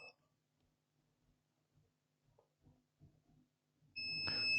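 A multimeter in continuity mode beeps as its probes touch the source of a MOSFET on an Acer laptop circuit board, one loud sustained tone arriving at the end after quiet fumbling.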